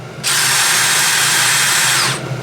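A DeWalt 20-volt cordless drill spins up and runs at high speed for about two seconds, a loud, close, steady whine before stopping.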